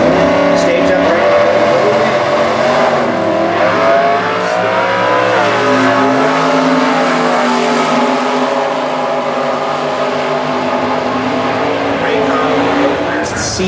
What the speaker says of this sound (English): staging up on the Summit side against Hank Stewart and the Stress Express 1980 Monza